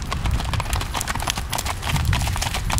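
A horse named Sandman clip-clops at a slow, easy walk over ground strewn with leaves and tree limbs, steady close hoof beats with a rustling, crunchy texture and no talking.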